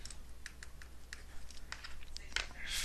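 Quiet, quick key presses on a calculator entering a subtraction of negative numbers, a string of light irregular clicks close by with no talking.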